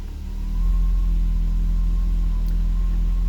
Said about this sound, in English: when I turn the AC on, you can hear the engine revs up a bit